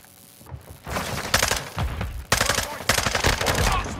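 FSS Hurricane gunfire in Call of Duty MWII, loud rapid automatic bursts in several sustained volleys with brief gaps between them, close and dominant.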